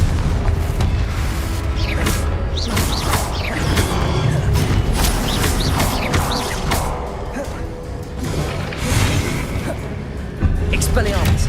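Repeated fiery blasting-curse explosions from Confringo in the Hogwarts Legacy video game, loud booming bursts and crashes going off throughout amid dense battle noise, with a voice speaking over them.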